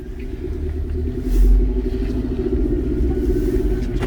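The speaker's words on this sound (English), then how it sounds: "it sounds like the turbo's in the front seat with me" A 2013 Mercedes-Benz C250 with a turbo engine drives along, a steady low engine drone and road rumble heard from inside the cabin, swelling briefly as it pulls.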